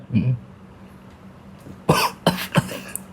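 Two or three harsh coughs burst out close by after a faint voice, with a softer throaty sound near the start.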